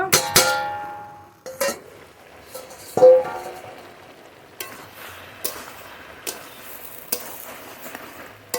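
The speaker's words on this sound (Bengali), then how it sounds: "এবার ঢেকে দিয়ে আস্তে আস্তে কষিয়ে নেব" Glass carp fish curry with turmeric cooks in a covered pan: a soft, faint sizzle under scattered clinks and knocks of the lid and utensils.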